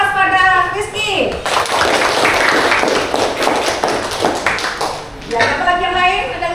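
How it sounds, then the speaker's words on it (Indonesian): Students in a vocational high school classroom break into a burst of clapping lasting a few seconds, loud and close, with a teacher's voice speaking before and after. "beri aplaus pada Rizky."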